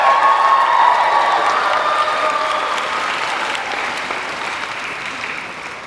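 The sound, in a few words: audience applauding at a high school graduation ceremony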